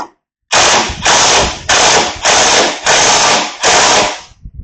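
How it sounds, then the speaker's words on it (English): An impact tool loosens the top bolt on a car's steering box in loud, close bursts, six rapid hammering rattles in a row. "I guess I have to loosen up the top bolt on this thing"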